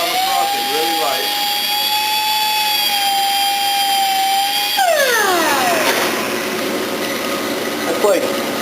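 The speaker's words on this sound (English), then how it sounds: "Just take the grinder." Grinder whining steadily as it lightly scuffs the face of a cross-drilled brake rotor, loud and close, its pitch sliding downward as the tool spins down near the end.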